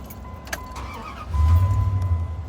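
A semi truck engine turns over and catches after a clink near the start, then settles into a deep, loud idle rumble close by, with no voices.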